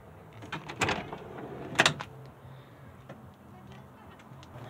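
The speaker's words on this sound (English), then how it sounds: "Open the back doors here." Two sharp mechanical clunks about a second apart as the back doors of a touring van unlatch and swing open, followed by quieter ticks and rattles.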